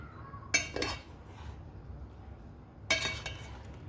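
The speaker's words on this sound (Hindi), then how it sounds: "अब आपने इसमें आहिस्ता आहिस्ता चम्मच हिलाना है।" A spoon knocks and scrapes twice against a pot while gently stirring half-boiled rice for sweet jaggery rice, with quiet pauses between the two clinking strokes.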